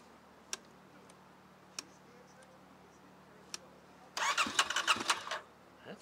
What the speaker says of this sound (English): it's hard starting because it went from being too rich to being a little too lean